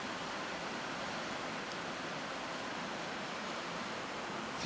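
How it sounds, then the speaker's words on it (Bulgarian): A river rushes steadily below a mountain monastery, a dense, even wash of flowing water with no breaks, heard up close and alone. "чува се реката"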